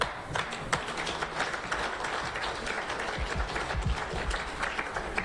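Crowd applause at an outdoor political rally, a dense patter of clapping hands that holds steady at moderate distance, with occasional louder claps and low thumps standing out.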